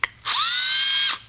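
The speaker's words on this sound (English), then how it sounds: "So I wonder how hard it is to drill into that." A power drill bores into mild steel while making a hole in a shed door for a knob, one loud sustained whine of about a second that rises in pitch as the motor spins up, then cuts off abruptly.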